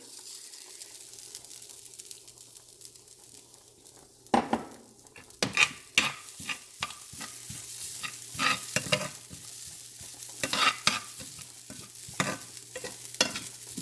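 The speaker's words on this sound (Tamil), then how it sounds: "இனி நாங்கள் இதுக்குள்ளே இந்த தேங்காய் பூவை போட்டு வறுக்க போகிறேன்" Grated coconut is dry-fried and stirred in a pan for a tiny-prawn sambol, with a soft sizzle beneath frequent close spatula scrapes and taps that grow busier as it goes on.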